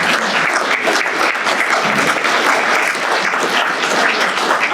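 A crowd at a veterans recognition breakfast applauds the general with loud, continuous, tightly packed clapping that holds steady throughout, with no speech over it.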